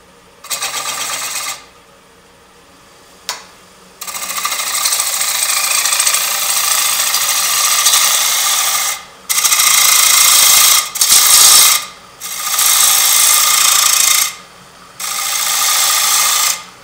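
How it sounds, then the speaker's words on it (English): A wood gouge cuts a bowl spinning on a lathe, giving loud, raspy scraping passes in several bursts separated by brief quiet gaps, with no talking. "find a gouge and take a little bit of this wood off right here."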